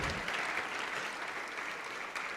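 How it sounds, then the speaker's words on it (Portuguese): Church congregation applauding during a worship service, a dense, steady wash of clapping with no distinct claps standing out, sustained at moderate level throughout. "Vamos aplaudir mais, igreja."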